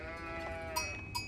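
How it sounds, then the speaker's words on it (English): Sheep in the Age of Empires strategy game bleat twice, short clipped in-game calls heard close over a faint hum of background game sound. "I got a sheep."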